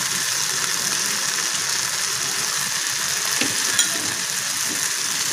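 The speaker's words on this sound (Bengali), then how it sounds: "খেজুর আর আমসত্ত্বটা দিয়ে আমরা আবার একটু নেড়ে নেব।" Date and dried mango pulp being stirred in a pan over very low heat with no water, a steady soft sizzle and scraping that runs continuously on its own.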